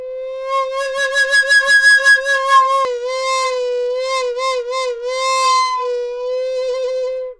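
A breathy recorder tone held steady, its pitch wobbling rapidly and widely in an exaggerated vibrato, played solo with a brief break midway.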